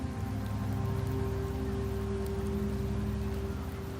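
Rain falls steadily in the Wuthering Waves game world of Septimont, a constant soft patter over a low ambient drone, with no voices.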